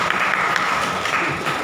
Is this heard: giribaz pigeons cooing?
no